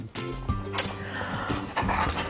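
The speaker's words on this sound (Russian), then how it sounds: "что-то там скулит, так пищит" A dog whines and squeaks in short high whimpers, close by, with some soft panting.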